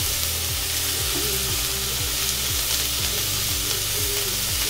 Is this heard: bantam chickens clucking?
no